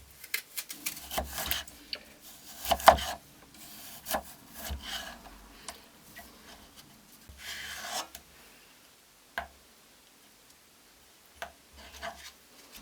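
Repeated crisp knife strokes slice firm quince into thin sticks on a board, a series of short scraping cuts with brief pauses between them, close and fairly quiet.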